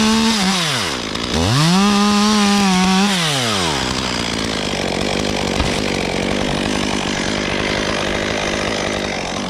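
Chainsaw cutting through a hollow poplar tree during a removal, the engine rising and dipping in pitch as it revs, then settling into a steady loud grinding cut through wood, close and continuous.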